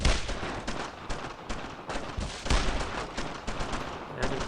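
Heavy gunfire rattles through a World War II battle in the video game Brothers in Arms: Road to Hill 30, with dense overlapping bursts and sharp shots sounding continuously and loudly from close by.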